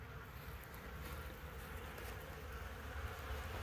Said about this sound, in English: this is outside the window where the bees are going in.